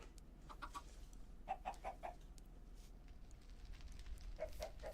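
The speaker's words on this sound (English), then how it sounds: "Got some chickens going." Chickens cluck in a Minecraft All the Mods 10 modpack world, short quick bursts of three or four clucks repeated a few times, faint and slightly distant over a low background rumble.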